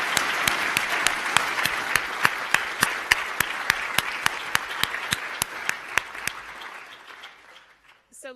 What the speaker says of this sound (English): let's give a round of applause again to our speakers